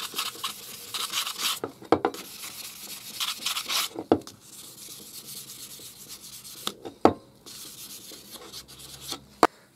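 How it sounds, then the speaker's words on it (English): Hand rubbing and polishing of a restored woodworking chisel, close and steady in long bursts with a few sharp knocks and clicks between strokes, no talking. "we'll get on and give this a bit of a polish up"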